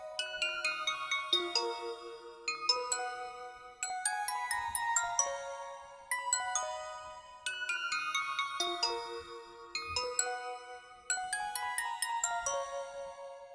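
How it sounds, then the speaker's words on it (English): Two layered synth bell tones in FL Studio, one pitched an octave above the other, playing a dark trap melody in repeated phrases of bright, ringing struck notes with shimmering decays, alone without any voice. "So I'm really layering two bells, but I took that up an octave so that it's covering a different frequency."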